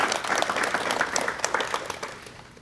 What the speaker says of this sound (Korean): 여러분 박수로 맞이해 주시면 대단히 고맙겠습니다